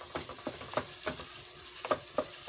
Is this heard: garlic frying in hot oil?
yes